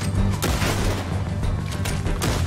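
Loud gunshots boom in a Red Dead Redemption 2 shootout: three or four heavy cracks spaced about a second apart over a thick, rumbling game soundscape.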